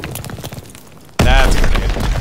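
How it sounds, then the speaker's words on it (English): A grenade explosion in Call of Duty WWII bursts suddenly and loudly, a heavy boom with rumbling aftermath following quieter game sounds and a person talking. "That's a grenade."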